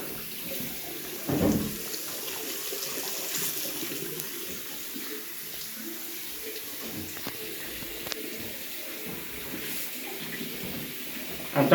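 A hotel bathroom tap runs in a steady, faint stream of water, with a couple of brief louder splashes or knocks near the start and end.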